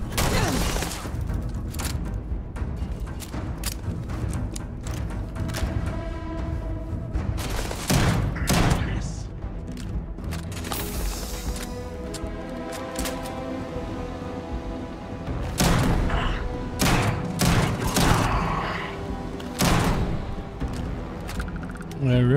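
A shotgun fires repeatedly in the space game Starfield, with loud, booming blasts at irregular intervals over a constant layer of game noise.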